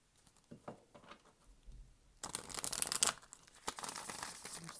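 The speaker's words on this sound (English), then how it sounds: "I'm just going to shuffle." Tarot cards being shuffled by hand, a soft crisp riffling and flapping burst of about a second, preceded by faint scattered taps and followed by lighter card rustles, close and alone.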